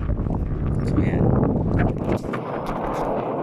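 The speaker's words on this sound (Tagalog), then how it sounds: "dito ako sa tuktok at napakalakas ng hangin" Strong wind roars across a mountain summit on Mt. Guiting-Guiting, Sibuyan Island, buffeting the microphone with a loud, continuous rumble as a person talks over it.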